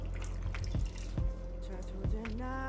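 A cup of water poured into a pot of curry oxtail with lima beans, a short splashing pour with drips and a rising filling tone near its end.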